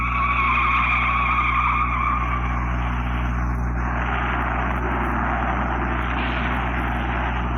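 Race car spinning out at the 1964 Indianapolis 500, a loud sustained tire squeal and skid over a constant engine roar, lasting several seconds without voices.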